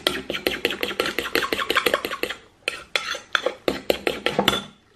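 A utensil briskly stirring peanut butter bread ingredients in a bowl, rapid rhythmic clinking scrapes in quick bursts, close and loud, with a short pause midway.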